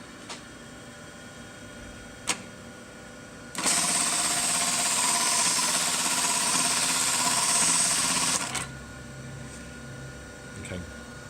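A Juki LK-1900B bartack sewing machine with its thread trimmers disabled runs a box and cross pattern: one loud, steady burst of rapid stitching lasting about five seconds, with a few sharp clicks and quiet workshop noise before and after.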